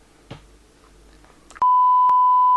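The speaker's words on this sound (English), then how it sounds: "I might have to beep that out what I just said" After a quiet stretch with faint rustling, a loud continuous censor beep tone cuts in abruptly and holds to the end.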